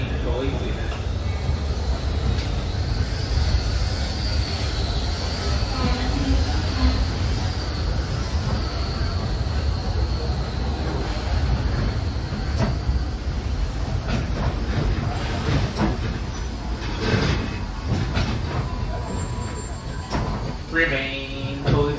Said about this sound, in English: As we arrive at Frontierland, remain fully seated until the train comes to a full and complete stop